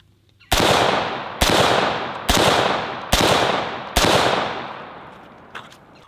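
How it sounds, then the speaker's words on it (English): An AR-15 fires M855 green-tip 5.56 rounds into a dirt backstop at an outdoor range: five loud, sharp reports spaced roughly a second apart, each leaving a long ringing decay, followed by a faint clatter. "it has been a while since I've shot Green Tip, so we are gonna shoot a few rounds"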